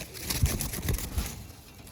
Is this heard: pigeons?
yes